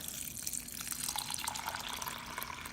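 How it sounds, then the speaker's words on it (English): Lukewarm water runs into a rock tumbler container in a steady, soft splashing stream with faint trickles, quiet and close, with no talking. "lukewarm water, fill it up about half."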